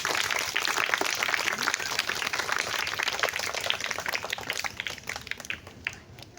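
Audience applause after a Swachh Bharat street play by Chandigarh Art Theatre, a dense, steady clapping from a crowd of children that holds throughout and thins slightly toward the end.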